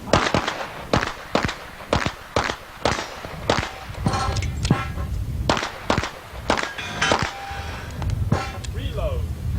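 Rapid pistol gunshots ring out in sharp, loud bursts with short pauses during a 1988 USPSA national championship practical shooting stage, the reports echoing outdoors as a competitor runs the course.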